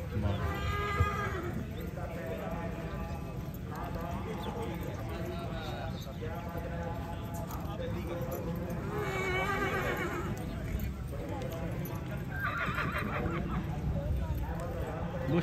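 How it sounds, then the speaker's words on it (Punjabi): Mares gathered at a horse competition in Pakistan give occasional neighs and hoof clops in the background, mostly under an announcer's continuous amplified speech. "ਘੋੜੀ ਨੰਬਰ 20 ਔਰ 26"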